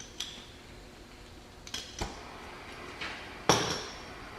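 Vise grip pliers clamp and work at a torch-heated broken bolt stud on a Ryobi C4618 chainsaw, giving a few sparse metallic clanks and scrapes with quiet gaps between them.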